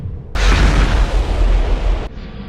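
In the video game MechWarrior Living Legends, a weapon fires as one loud, close, booming blast that lasts under two seconds, rising abruptly and cutting off sharply above a low background rumble.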